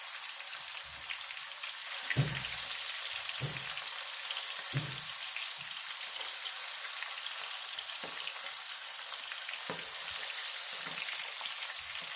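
Hot oil fries steadily with a constant bright sizzle, broken by a few soft low thumps and stirring knocks in a kitchen, with no talking.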